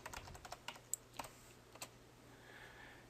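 Computer keyboard typing with a scattering of separate key clicks, irregular and fairly close, over a quiet room background with no speech.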